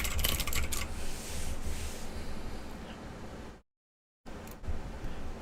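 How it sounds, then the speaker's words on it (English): Fast typing on a computer keyboard, a dense run of light clicks and taps close up, broken by a brief silent gap before the keystrokes resume. "I was typing a little quick"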